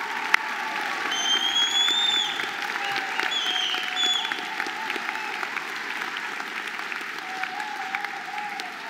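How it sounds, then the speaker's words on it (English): Sustained applause from a graduation ceremony audience for new engineering, IT, environment, nursing and midwifery graduates, steady dense clapping with faint crowd murmur and a few whistle-like tones, holding level throughout. "please give these marvellous graduates a final last round of applause"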